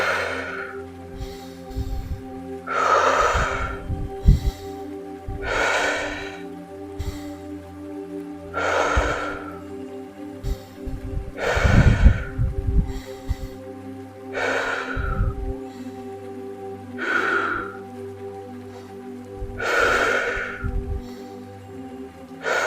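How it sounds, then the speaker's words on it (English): Deep Wim Hof breaths repeat in a steady rhythm, each a loud, rushing inhale followed by a softer exhale, about eight cycles close to the listener over a quiet background of nature sounds. "Inhalations and exhalations."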